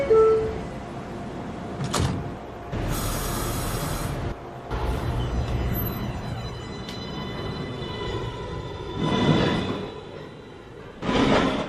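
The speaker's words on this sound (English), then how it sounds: "Stand clear of the closing doors" NYC subway 1/2 train at Fulton Street station, doors sliding shut with sharp bursts of noise and thuds, set against a steady hum of the stopped train and platform ambience, with no talk.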